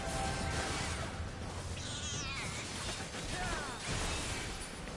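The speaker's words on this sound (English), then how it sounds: "That's a mad kitty." An angry cat meows and yowls in the video game Final Fantasy XIV, a couple of drawn-out caterwauls rising over dense, loud game battle noise.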